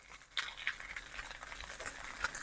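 Soft, steady sizzling and scraping of rice being stir-fried in a hot wok for golden fried rice, with light irregular ticks and patters, fairly quiet and close.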